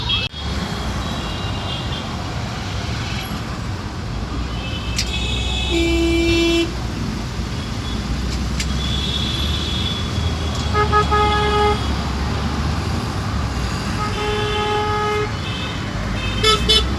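Dense city traffic in Mumbai: a constant low rumble of engines with repeated car horns honking, short toots and longer blasts, some near and some farther off, scattered throughout without any talk.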